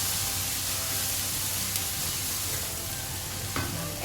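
Fennel powder and chili powder frying in a pan while being stirred, a dense, loud, close hissing sizzle that runs continuously with a couple of faint scraping knocks from the stirring, no talking.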